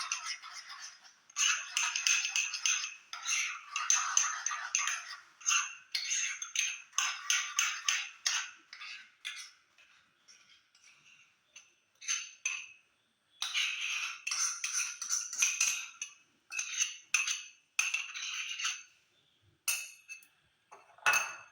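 Utensils stir and toss a high-fibre fruit and vegetable salad dressed with olive oil, giving bursts of clinking and scraping against the bowl in uneven runs with brief pauses, close and fairly quiet, no talking.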